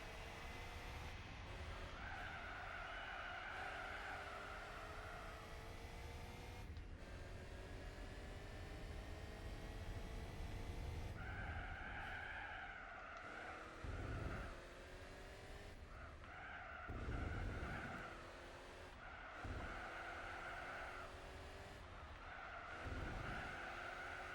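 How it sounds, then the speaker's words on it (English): A Chrysler car in the Gran Turismo 4 racing game, its engine droning and shifting pitch as it accelerates, with tires repeatedly squealing and skidding through corners, steady and continuous without any talk. "I was wondering why this car sounded so weird"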